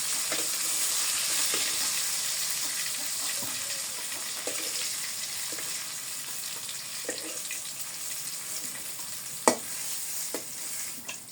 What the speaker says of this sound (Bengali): মাছ ভেজে হয়ে গেছে এখন আমি নামিয়ে নিই